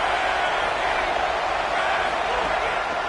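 A stadium crowd at a college football game roars on a big third-down play, a loud, sustained wash of noise with no break.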